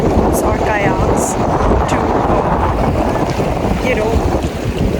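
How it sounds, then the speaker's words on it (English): Strong wind buffets the microphone in a constant loud roar near the Verdon Gorge in Provence, France, with faint water sounds underneath and no pauses. "it's super windy today"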